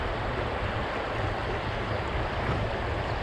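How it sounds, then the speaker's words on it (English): Continuous broadband rush of the swift Mahoning River hitting rocks, steady and close, with a dense hiss and low churn and no voices. "You can hear the water getting swift."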